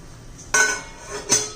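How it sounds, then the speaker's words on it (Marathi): A metal lid clinks onto a pot of tomato soup being cooked with garlic and ginger: one clear clank followed by a second lighter knock, close by with no talking. "हे सर्व आता झाकण ठेवून आपण शिजून देणार आहोत"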